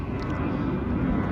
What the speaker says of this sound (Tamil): மேலே ஒரு ஃப்ளைட்டு போகிற சத்தம் கேட்குது